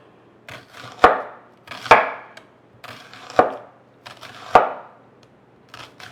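A knife slices a red onion thinly on a cutting board, making four or five sharp, crisp chops at an even, unhurried pace, close and distinct against a quiet background.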